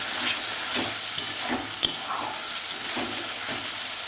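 Potatoes and green peas sizzle steadily as they fry in a pan, with scraping stirs and a few sharp clinks of the spatula against the metal, close and alone.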